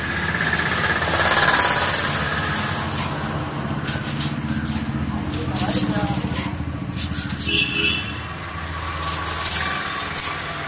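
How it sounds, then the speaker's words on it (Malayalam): A kitchen mixer grinder grinds tender guava leaves with a continuous, loud, rough motor whir and rattling jar, steady throughout with slight fluctuations in intensity. "പേരയില ഞാൻ മിക്സിയിലിട്ട് നല്ലവണ്ണം അരച്ച് എടുത്ത്"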